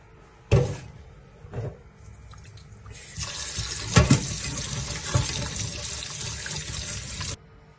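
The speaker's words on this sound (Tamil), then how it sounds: "இதை 2 தரம் நல்லா கழுவ வேணும்" Foxtail millet rice gets washed in a kitchen sink: a few knocks and clunks, then tap water runs steadily for about four seconds before cutting off.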